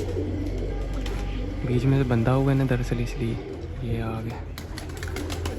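A pigeon coos in a few throaty, rolling bursts close by while someone talks over a steady low background hum.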